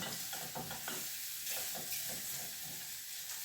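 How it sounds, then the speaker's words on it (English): Garlic mushrooms stirred in melted butter in a pan, with a steady sizzle and hiss under repeated soft scraping strokes of the spoon, close and continuous. "Keep stirring them. Make sure they all get coated."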